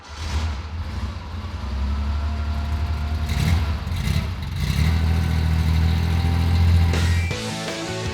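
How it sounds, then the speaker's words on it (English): A 1965 Porsche 911's air-cooled 2-litre flat-six runs steadily nearby with a low droning rumble, swelling slightly in the middle and then easing off near the end. "we have a 2-litre flat 6, air-cooled of course"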